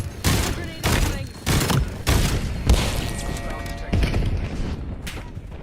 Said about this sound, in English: Grenade incoming.